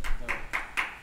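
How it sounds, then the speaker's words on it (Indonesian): Four sharp, evenly spaced claps at an Indonesian talk show about children with disabilities, close and fairly quiet, in a regular rhythm. "Tepuk tangan, tepuk tangan, tepuk tangan."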